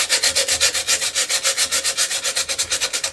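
Rhythmic sanding of a wooden end-grain board, steady back-and-forth strokes of about eight per second, loud and close with no voices.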